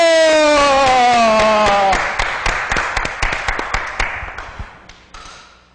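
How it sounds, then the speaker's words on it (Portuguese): A guest is applauded at a Friday business event honouring a company owner. Claps ring out loud and close after a sustained musical chord fades, spaced in scattered sharp hits that thin out toward the end. "que ele dê 3 passinhos até a frente, recebendo os aplausos"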